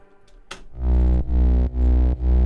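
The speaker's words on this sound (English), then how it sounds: "I added 2 bass line to give a more distort feeling to it." A thick, distorted synth bass of two layered bass lines pulses in repeated long notes after a short click, loud and buzzy with heavy low end and brief gaps between hits.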